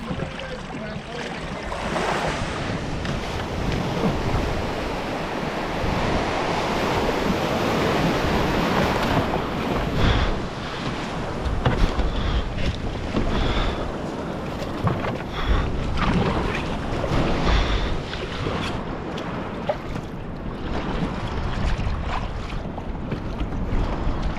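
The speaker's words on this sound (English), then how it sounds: "It's getting a little bit windy." Steady, roaring wind buffets the microphone over the wash of surf and water while offshore fishing, loud and continuous throughout with no voices.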